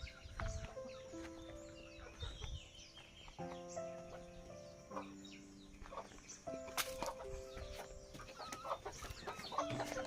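Several chickens cluck and squawk nearby in irregular bursts, with a rooster-like call rising near the end over faint farmyard background.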